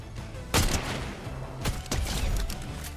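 Gunfire in the Fortnite video game, with a couple of sharp loud shot bursts standing out over a constant busy background of game noise.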